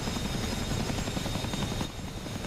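A Chinook helicopter in the flight simulator DCS World drones with a steady, dense rotor and engine roar, constant and close, with no talk over it.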